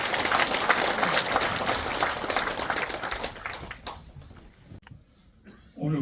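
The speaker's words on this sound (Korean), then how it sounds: "다시 한번 박수 부탁드립니다" At a Korean ceremony marking a book publication and a statue project, a hall audience gives dense, steady applause that thins out and fades, leaving near quiet before a voice briefly begins.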